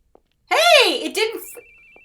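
Telephone ringing in the horror video game The Boogie Man, a single loud electronic ring burst followed by a fainter repeating tone.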